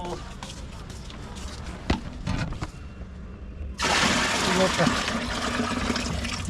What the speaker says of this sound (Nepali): पानी भर्यो फेरि एक बाल्टी हाल्दा चाहिँ ठिकै हुन्छ क्या हो